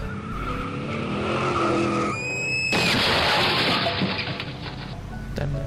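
A car loses control and skids with a long, loud tire squeal before crashing into a roadside tree, a close and intense sound effect.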